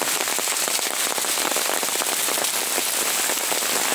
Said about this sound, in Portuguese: E há pouco mostramos as nuvens e agora a chuva.